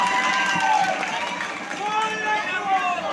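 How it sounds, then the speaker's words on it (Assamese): An audience at a stage performance applauds steadily for a young girl being introduced, a dense wash of clapping with some crowd murmur throughout. "এটা জোৰদাৰ হাত চাপৰি প্ৰথমতে ভাগ্যশ্ৰীৰ বাবে"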